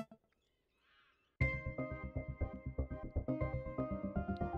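Crows cawing in the sci-fi fantasy video game Stardrytch: a faint bird call at first, then loud harsh caws in a quick rhythmic series over layered game sound.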